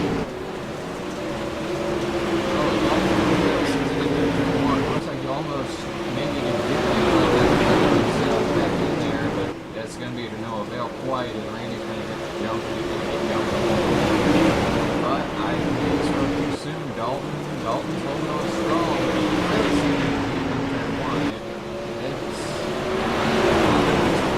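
Dirt late model race cars at Volusia Speedway Park roaring around the dirt oval after the green flag, a dense continuous engine drone rising and falling as the field passes, with an announcer talking over it.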